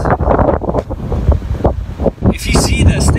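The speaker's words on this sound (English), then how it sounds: "It's pretty windy up here" Strong wind buffets the microphone outdoors on a drive-in service stage, a loud continuous roar with gusts throughout, and a voice is partly heard beneath it.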